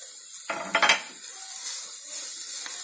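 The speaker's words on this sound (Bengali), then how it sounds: "আমি এবার উচ্ছে করলাটা ভেজে রেখে দিয়েছিলাম সেটা আমি মিশিয়ে দিচ্ছি" Metal spatula scraping and clanking in a pan as fried bitter gourd is stirred into frying gourd peels over high flame, a few sharp knocks over a soft steady sizzle.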